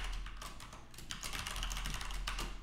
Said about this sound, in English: I'm gonna type in a password